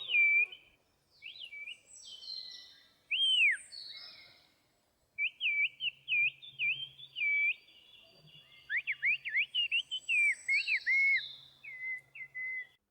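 Kush Dili, the Turkish whistled language, sounds as sharp, high, bird-like whistles in varied phrases, rising and falling swoops and rapid trills separated by pauses, clear and fairly close.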